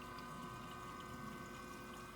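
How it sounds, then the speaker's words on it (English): Steady low whir of a car water pump circulating coolant after a radiator relocation on a mega monster truck, a continuous faint hum and watery flow with no change throughout. "It sounds like the water pump's working."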